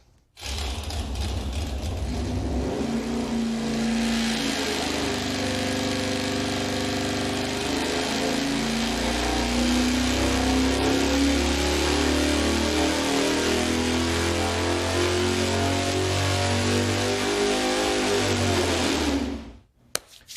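A Ford engine fitted with Mopar parts and a conventional electronic ignition runs on a dyno after rewiring, holding a loud, steady mechanical roar with rattling valvetrain clatter and subtle pitch shifts, close up, then cutting off abruptly at the end.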